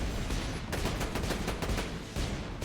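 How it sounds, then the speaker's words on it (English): Rapid sniper rifle fire in Borderlands 2, a fast continuous stream of loud gunshots rattling off like a machine gun with no pauses. "That's a sniper rifle. That fires quicker than my assault rifle."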